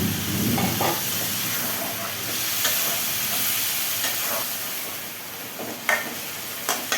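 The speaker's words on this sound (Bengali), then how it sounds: "একটু করে জল দিয়ে দিই, মশলা ধোয়া জলগুলো।" Chicken kosa masala sizzles and hisses loudly in a pan as a splash of masala-rinsing water hits the hot spices, the steamy fizz fading gradually with a few clicks near the end.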